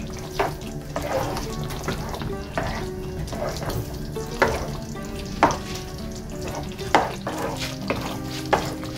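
Pork belly frying in a pan for Bicol Express, stirred with a utensil: a continuous sizzle broken by regular scraping strokes roughly every second, close by.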